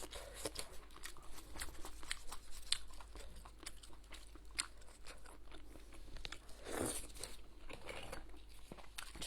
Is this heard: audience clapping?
no